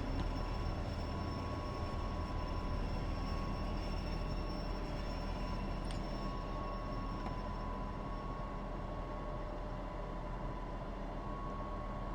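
A train climbs the Tharandter Rampe between Chemnitz and Dresden in Train Sim World, a continuous steady rumble with sustained tonal whine and hum, loud and unbroken throughout.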